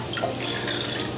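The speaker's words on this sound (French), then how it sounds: "Je le passe à la passoire." Duck broth poured from a pot through a strainer, a steady close splashing and trickling stream of liquid that holds even throughout.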